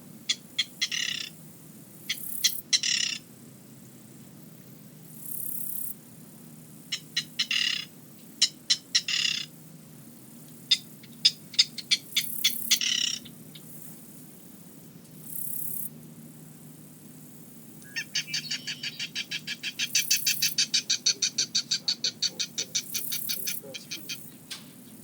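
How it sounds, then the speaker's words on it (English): Recorded bird calls played back outdoors at an estuary to draw a bird closer: bursts of squawking and rapid chattering calls repeat in clusters, some sharp and loud, with a long run of fast repeated notes near the end. "we're going to play a couple of calls to try to get this bird to come out"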